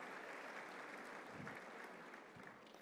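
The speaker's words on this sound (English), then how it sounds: "give them a round of applause" Audience applause at a touchdown club gathering following an autograph auction, a steady dense wash of clapping that holds at an even level throughout.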